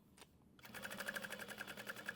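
A domestic sewing machine starts up and stitches a zipper panel on a crossbody bag, a fast even mechanical whirr with rapid regular pulses running close and steady for about a second and a half.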